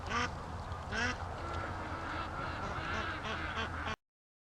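Muscovy ducks flying back to a lake give repeated honking, quacking calls over a steady background rumble, with several overlapping birds.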